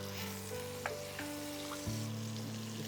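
Tangra fish seasoned with salt and turmeric sizzles steadily in a hot pan, a constant close frying hiss broken by a few light clicks and stirring knocks, with no talk.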